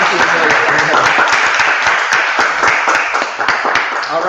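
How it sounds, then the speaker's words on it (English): Loud, sustained applause from an audience at a school senior presentation, dense clapping filling the whole stretch with a few sharper individual claps standing out near the end. "So let's give Amelia a round of applause."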